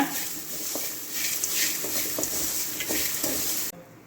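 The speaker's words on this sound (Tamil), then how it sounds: "அந்த துருவணு தேங்காவை எடுத்து ஆட் பண்ணிக்கிங்க போதுமான சால்ட்டு இதை நல்லா வதக்கிக்கிங்க" Grated coconut sautéing in a pan with salt, a dense continuous sizzle with soft scraping and stirring taps close by, cutting off abruptly near the end.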